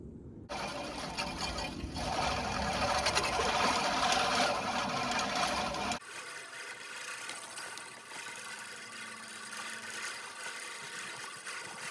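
A LawnMaster LMRM1602 16-inch five-blade push reel mower cuts grass in a tight spot, a steady whirring, clattering buzz that is loud and close for about six seconds, then drops to a quieter, more distant hum.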